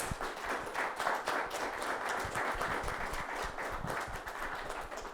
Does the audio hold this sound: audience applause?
yes